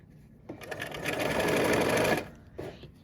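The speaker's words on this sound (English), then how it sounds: "I'm gonna go ahead and take a couple stitches again" A sewing machine runs in a short burst of rapid stitching through fabric, loud and close, with a brief quieter run of stitches just after it stops.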